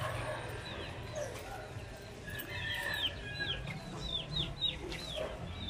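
Chickens cluck low and steadily while chicks peep in quick, high, repeated bursts, all fairly close, with the calls thickening toward the end.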